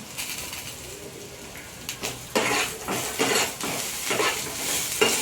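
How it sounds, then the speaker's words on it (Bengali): Eight to ten curry leaves crackling in a hot frying pan, a steady sizzle with louder bursts of stirring and spatula scrapes partway through, close up with no talking. "আমি এর মধ্যে আট দশটা মতো কারি পাতা দিয়ে দিচ্ছি"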